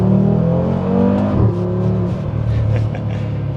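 Audi RS3 five-cylinder with an aftermarket exhaust sounds a loud, steady rev and drone as the car drives by, the tone dropping slightly midway as it passes, with no talk over it.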